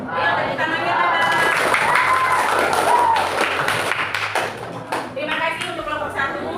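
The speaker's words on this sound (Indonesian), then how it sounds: "Ayo, tepuk tangannya, Bapak." Students applaud in a grade VII madrasah classroom as a group finishes presenting. The clapping is steady and mixed with voices and calls, and it thins out near the end.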